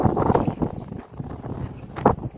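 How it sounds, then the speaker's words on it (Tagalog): Gusty wind at sea on a fishing trip buffets the microphone in uneven rushes, loud and rumbling, with no talk. "Saka malakas na naman yung hangin."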